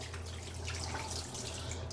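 Liquid poured out of a Jobo film developing tank during black-and-white film processing, a steady continuous splashing stream that runs unbroken and fairly loud for the whole stretch.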